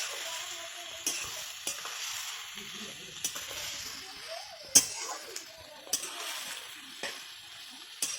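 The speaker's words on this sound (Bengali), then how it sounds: "পেঁয়াজটাকে ভালো করে ভেজে নিতে হবে।" Onions frying in oil in a village kitchen while mutton is being cooked, a soft steady sizzle broken by occasional sharp scrapes and clinks of stirring, close and fairly quiet with no talk.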